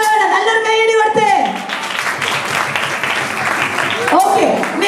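Children clapping together at a church Vacation Bible School, a dense burst of applause that swells over a few seconds with voices mixed in underneath.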